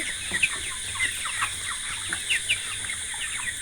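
Broiler chickens on a village poultry farm cluck and chatter in a dense, continuous flock chorus with scattered sharper calls over a steady background hum, no voices.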